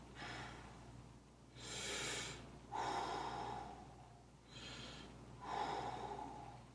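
Steady breathing during a singing breath exercise: four slow, close, airy breaths that rise and fall in turn, with no talking.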